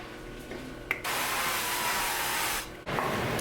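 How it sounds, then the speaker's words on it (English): A steady spray hiss of ghee cooking spray lasting about one and a half seconds, close and fairly loud, after a short click of the nozzle. "Ghee cooking spray."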